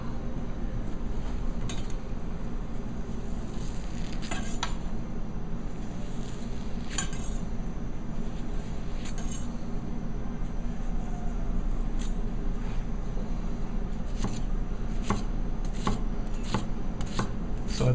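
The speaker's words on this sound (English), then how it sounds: "I'm able to slice through that really nicely" A Zhen Premium C6 9.5-inch chef knife slices through a shallot on a board, making crisp, close cutting taps in loose clusters over a steady background hum.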